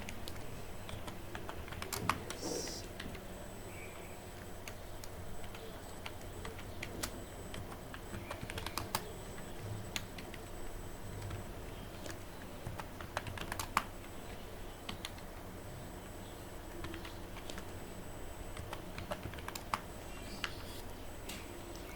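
Steady, quiet tapping on a computer keyboard for a long stretch, soft irregular key clicks with occasional sharper strokes, close by and alone without talk.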